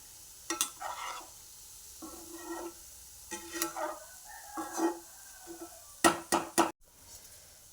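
Gulab jamun made with milk powder fry in hot oil, heard as soft sizzling and bursts of stirring with sharp metallic clinks and taps from a utensil against the pan, close, intermittent and without talk.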